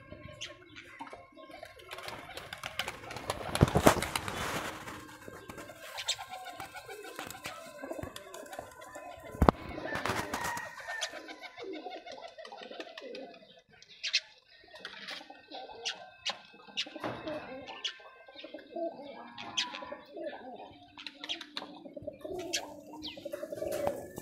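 Tumbler pigeons of a high-flying ghonobaji breed coo repeatedly in a loft, soft throaty calls recurring alongside scattered chirps, wingbeats and a few sharp knocks, fairly close with no talking.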